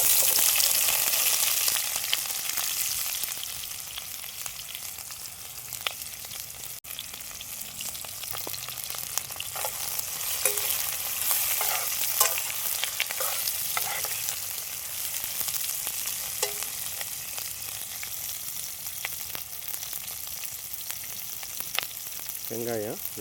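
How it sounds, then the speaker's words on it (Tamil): Two large onions sauté in a pan for a village-style chicken fry, giving a continuous hissing sizzle with occasional stirring and scraping clicks, fairly close and with no one talking over it. "வெங்காயம் நல்லா பொன்னிறம் ஆகிற வரைக்கும் நல்லா வதக்கலாம்."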